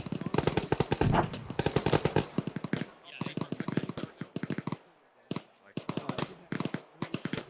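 Rapid automatic gunfire in ArmA 3 aimed at a BTR-60 armored vehicle, with dense loud bursts of closely spaced shots, a brief lull, then more volleys, while voices talk over the shooting.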